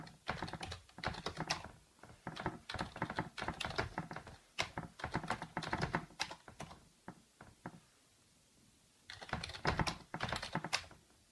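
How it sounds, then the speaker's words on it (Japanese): Rapid clicking keystrokes on a USB computer keyboard connected to a Fire HD 6 tablet, in uneven bursts, with a short pause before typing resumes, close and fairly quiet. "USB キーボードも問題なく使えました。"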